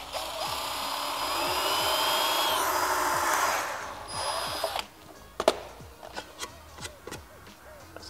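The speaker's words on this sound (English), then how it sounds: "I'm gonna basically drill that mark out using a 3/16 drill bit." A power drill with a 3/16 drill bit bores through a diffuser on a Mk5 Toyota Supra front splitter, a loud steady whining grind for about five seconds, then stops, followed by scattered sharp clicks and knocks.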